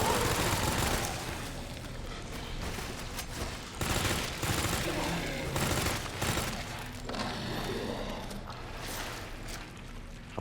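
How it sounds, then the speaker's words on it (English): SMG gunfire in the Resident Evil 2 remake, heard as dense, continuous rattling bursts mixed with booming impacts during a boss fight, loud and steady for around ten seconds with a few swells. "And a few more SMG rounds."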